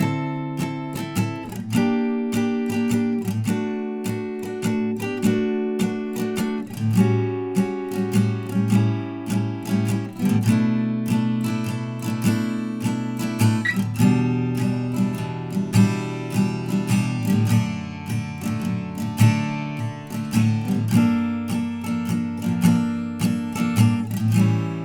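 Guitar plays the bridge of a song, a steady strummed chord progression with crisp rhythmic strokes and ringing chords, played solo and close without any talking.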